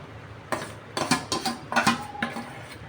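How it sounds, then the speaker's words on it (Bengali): Beef biryani meat in a cooking pot is stirred with a utensil, making a series of light metallic clinks and scrapes in irregular bursts, close and fairly quiet. "তা আবার নেড়ে পুরো পাতিল পর্যন্ত ছড়াই দিচ্ছি"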